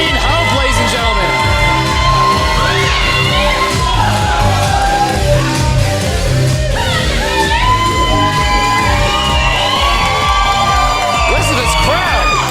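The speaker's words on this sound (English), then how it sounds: "Listen to this crowd." Crowd at a Dominion Wrestling show as a wrestler named Elaine Hope is introduced, loud, sustained cheering, whoops and shouts from many voices filling the hall for the whole stretch.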